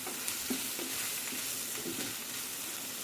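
Pointed gourd and chicken fry in a pan, their last bit of light gravy cooking down, with a steady soft sizzle and occasional stirring scrapes, no talking.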